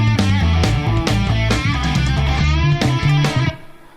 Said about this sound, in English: the basic recording using my quad cortex with the drums all mixed